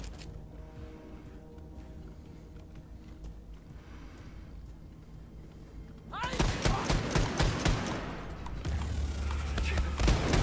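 Sustained automatic gunfire in Wolfenstein 2: The New Colossus erupts loud and continuous after a quieter stretch of low rumbling ambience, dense volleys of shots filling the second half.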